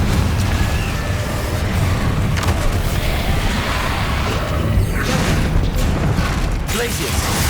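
A Confringo spell cast in Hogwarts Legacy sends a dense, continuous rumble of fiery blasts and crashing impacts, loud and close, with scattered bursts across the whole stretch and a voice audible now and then.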